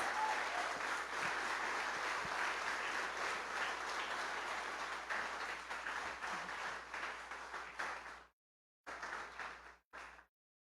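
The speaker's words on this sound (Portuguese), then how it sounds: "Um forte aplauso ao Senhor Jesus." Congregation applauding in a church Holy Communion service, a steady sustained wash of clapping that tapers off, then a couple of short final bursts before silence.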